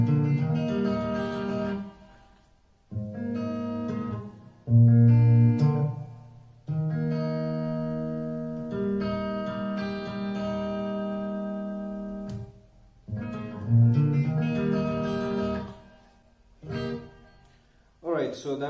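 Acoustic guitar playing the second bar of the intro to a song at full speed, picked notes and chords in short phrases separated by brief pauses, close and moderately loud.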